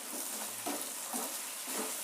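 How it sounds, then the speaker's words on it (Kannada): Potatoes fry in oil in a pan for aloo capsicum masala, a steady broadband sizzle with a few soft stirring bursts over two seconds, close and even. "ಆಲೂಗೆಡ್ಡೆ ಎಣ್ಣೆಯಲ್ಲಿ ಫ್ರೈ ಆಗುವಾಗ"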